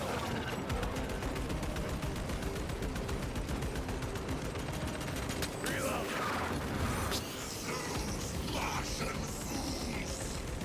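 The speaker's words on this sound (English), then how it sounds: "that's him shooting at me" Enemy gunfire in the Space Marine 2 video game crackles in rapid, dense bursts over busy battle effects, fairly quiet overall with a short lull before the action resumes.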